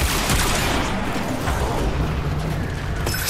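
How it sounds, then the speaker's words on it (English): Gunfire in the video game Warframe, dense and continuous, a steady roar of rapid shots and impacts filling the whole moment with no clear breaks, with no talking over it. "Why are you shooting at me?"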